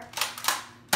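The Busby Toys Air Warriors Cougar toy blaster fires in quick succession, a fast burst of three or four snapping shots within a second, close and loud.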